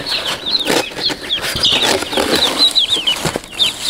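Young chickens in a brooder pen cluck and chirp in short high calls while wings flap in quick bursts, close and fairly loud.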